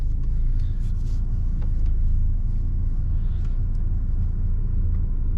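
An Audi A3 8L with the 1.8T engine idles steadily, a continuous low rumble that stays even and close throughout with no revving or talk.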